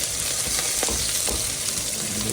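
Onions sizzling in a hot pan, a dense, steady hiss of frying close up with faint crackles throughout and no talking.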